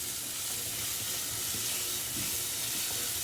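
Leek and vegetables sweating in a non-stick pan for risotto, giving a steady close sizzle and hiss that stays even throughout, with faint stirring scrapes.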